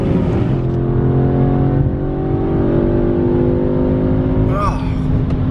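Car from the 8Y S3 pulling hard on a drag run, loud steady engine drone with rising harmonics sustained throughout, a brief tonal shift near the end, heard up close and continuous.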